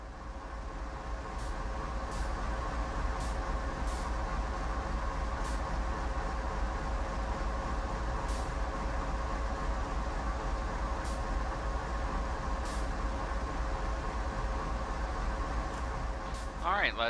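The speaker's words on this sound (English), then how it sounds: "locomotive is the AC 4400 CW built by General Electric Transportation of Erie, Pennsylvania" A General Electric AC4400CW diesel locomotive in Train Sim World, 4,400 horsepower, idles with a steady deep rumble and mechanical hum that holds throughout, with faint intermittent clicks above it.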